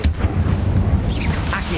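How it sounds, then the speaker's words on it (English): Incendio fire spell cast in Hogwarts Legacy on PS5, a steady roaring whoosh of flame with a deep rumble, loud and close, with a voice faintly underneath. "Incendio."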